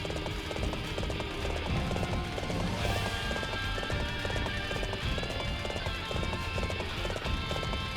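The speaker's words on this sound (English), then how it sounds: "Good thing this massive bridge can hold a horse" Horse hooves clatter in a steady galloping clip-clop across a large bridge in the Dynasty Warriors 7 video game, loud and continuous over dense game music and battle ambience.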